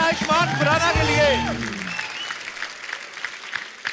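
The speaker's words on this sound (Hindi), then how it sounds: "जोरदार तालियां एक बार आयुष्मान खुराना के लिए।" Studio audience applause greets actor Ayushmann Khurrana on a Hindi comedy talk show, loud and dense at first under music and cheering, then thinning to a softer patter.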